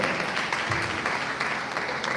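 A hall audience at an inter-tertiary debate competition applauds briefly, a fairly quiet, even patter of many hands clapping with no voices over it.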